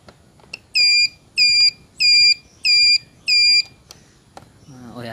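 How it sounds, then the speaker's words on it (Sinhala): An electronic buzzer signal fitted on a bicycle gives five loud, evenly spaced beeps in a steady on-off rhythm, followed by a few faint clicks and a brief voice at the end. "ඔයාලට පේනවා ඇති මේ බසර් එක වැඩ කරනවා"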